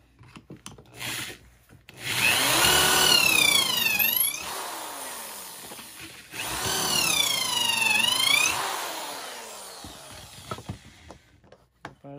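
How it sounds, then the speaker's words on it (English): A power drill bores pocket holes into wood during a school bus tiny home build in two long bursts, its whining pitch rising and falling, with short pauses and handling noise between them. "Go ahead and run your drill"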